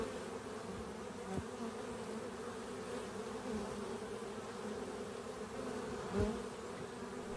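Honeybees crowd the entrance at a hive's bottom board, a constant close buzzing hum with steady drone tones and a few soft knocks.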